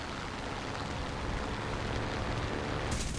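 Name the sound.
aircraft guns firing in War Thunder video game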